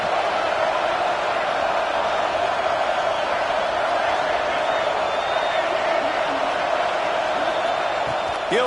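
A college football stadium crowd during a Texas game on fourth down keeps up a steady, distant roar beneath an announcer's commentary.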